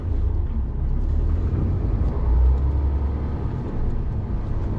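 A truck on the road gives a loud, steady low engine rumble and drivetrain drone from inside the cab, swelling briefly midway and continuing throughout with no talk.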